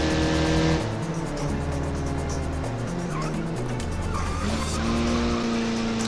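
Soviet touge race car in BeamNG braking hard, a steady engine drone with stepped tonal shifts and a thin tire squeal as the brakes are pumped, loud and close with no talk.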